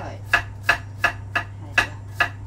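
A knife chops lemongrass finely on a board for a pork chop marinade, six evenly spaced crisp strikes at a steady rhythm, close and moderately quiet over a low background hum.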